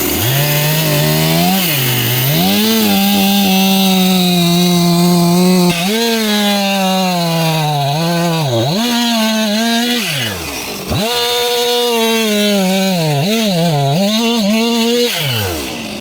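A chainsaw revs and bites into a large tree stump, its engine droning loud and close, bogging down under load and climbing again in repeated cuts with a short pause.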